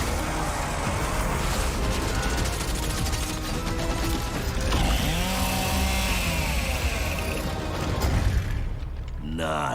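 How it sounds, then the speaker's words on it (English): The Chainsaw Lancer from Gears of War: E-Day revs and grinds continuously, a dense mechanical buzz with rising and falling whines, heavy and up close, mixed with game effects throughout. "The creation of the Chainsaw Lancer is another origin story from lore that we wanted to show in E-Day."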